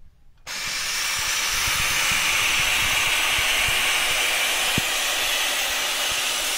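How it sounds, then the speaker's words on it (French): A Vapodil steam cleaner on its pressing function releases a strong, steady hiss of steam that starts abruptly and holds evenly until the end, close and loud with no talking. "Et vous allez pouvoir ainsi envoyer la vapeur et procéder à la fonction pressing."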